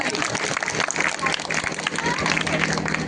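A school debate audience claps loudly for the opposition team, a dense, steady wash of many hands with crowd murmur mixed in, lasting throughout.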